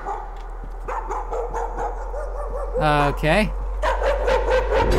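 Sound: dog barking in the video game Layers of Fear

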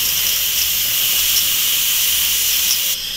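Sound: Instant Pot quick pressure release hissing steam

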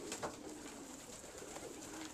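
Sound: pigeons cooing

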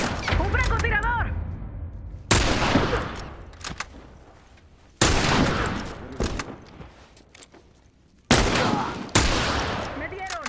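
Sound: sniper gunfire in The Last of Us video game

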